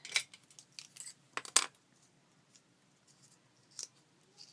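A few quick snips of paper scissors cutting paper, short crisp metallic cuts in small bursts separated by quiet pauses, close by.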